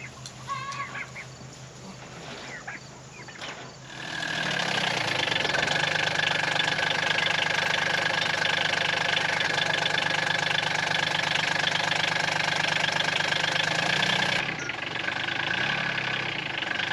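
A Kubota B2601 tractor engine starts up and runs at a steady, loud idle for several seconds, then its tone shifts slightly as it keeps rumbling nearby.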